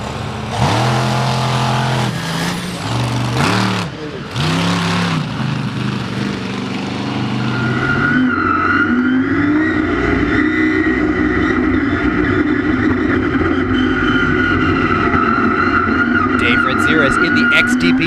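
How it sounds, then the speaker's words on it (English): Monster truck engines roar at a 4-Wheel Jamboree Nationals race in Indianapolis, The General against XDP, rising into a loud sustained revving drone with whining pitch after a few choppy bursts, under an announcer's voice. "The General faces off against XDP in our next round of Monster Truck Racing"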